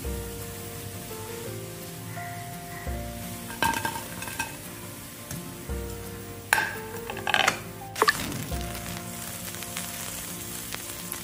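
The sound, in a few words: cauliflower pieces deep-frying in oil for Gobi 65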